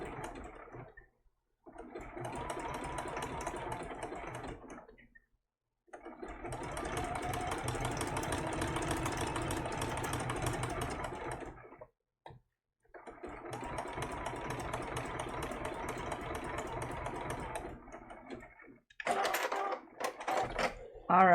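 A sewing machine stitches down applique pieces for a baby turtle quilt design in three long runs of steady mechanical whirring, separated by brief pauses, with a few clicks and handling noises near the end.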